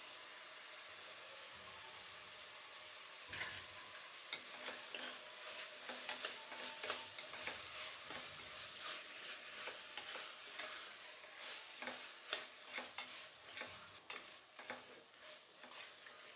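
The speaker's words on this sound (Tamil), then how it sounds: "ஒரு 5 மினிட்ஸ் நல்லா காயோடு சேர்த்து வதக்கி விட்டு வேக வச்சுக்கோங்க" Vegetables sautéing in a pan for vegetable biryani, a steady close sizzle with repeated scraping stir strokes that grow busier partway through, no voices.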